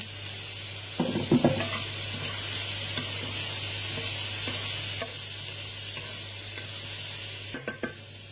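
Garlic hits a hot pan while making Bicol Express and sizzles steadily and close, with a couple of brief utensil clatters near the start and end.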